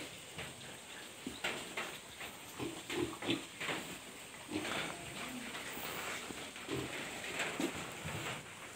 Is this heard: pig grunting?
yes